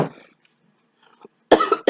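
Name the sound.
coughing after inhaling coconut cooking spray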